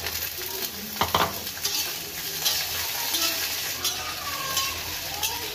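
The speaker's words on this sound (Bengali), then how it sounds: "তেল পেঁয়াজের সঙ্গে বেগুনটা নাড়াচাড়া করে নিলাম।" Eggplant pieces stirred in hot oil with half-browned onion in a pan, a constant sizzle broken by scraping stirs and light clinks of a spoon against the pan, close and busy, with no voices.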